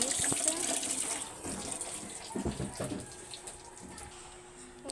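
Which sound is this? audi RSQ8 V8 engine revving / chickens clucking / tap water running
tap water running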